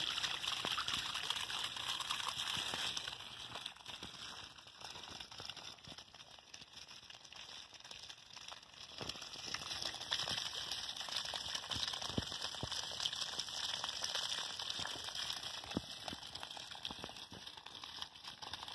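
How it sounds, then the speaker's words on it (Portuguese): Water gushes from the outlet pipe of a water pump that runs without electricity, a strong continuous splashing rush with crackly, dribbling texture that holds steady for the whole stretch, with no talking. "Tá saindo o cano cheio de água."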